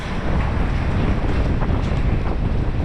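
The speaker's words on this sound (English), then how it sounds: "Man, it's so windy." Strong wind buffets the microphone on a street in Macau in a steady, loud roar of rumbling noise, with no voices heard.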